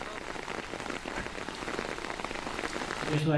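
Heavy rain pours steadily, a dense continuous hiss of drops drumming on surfaces, with no voices.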